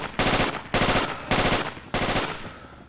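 Four loud, close bursts of automatic assault rifle fire in Project Reality on Muttrah City, each a rapid rattling string of shots separated by short gaps, with no talking.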